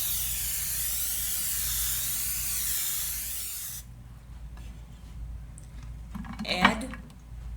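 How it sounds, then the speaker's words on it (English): A steady, close hiss of cooking spray sprayed into a casserole dish lasts several seconds, then stops, followed by quiet kitchen clatter and a brief clink. "use non-cooking spray and spray your casserole dish"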